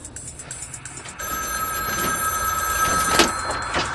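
A street phone booth telephone rings loudly and insistently in a tense standoff scene, its bright metallic bell starting a second in and continuing over background city and crowd noise.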